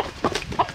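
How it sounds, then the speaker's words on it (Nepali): Roosters on a rural trail during the rainy season, with a brief close burst of clucking and squawks in two quick bursts. "एउटा भाले दुईटा भाले तीनटा भाले"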